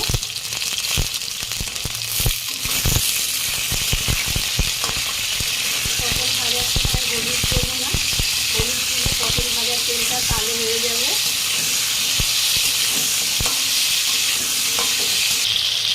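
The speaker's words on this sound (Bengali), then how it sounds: "কড়াইতে দিয়ে দেব সরষের তেল তেল গরম হয়ে গেছে পটলটা ভেজে নেব" Pointed gourd (potol) fries in hot mustard oil in a wok, a constant loud sizzle broken by frequent sharp clinks of a spatula stirring against the pan.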